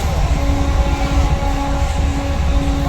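A train runs through Bahanaga at midnight, a steady, loud rolling rumble with a low mechanical drone and faint humming tones that continue without a break.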